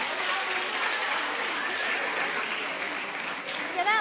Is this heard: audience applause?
yes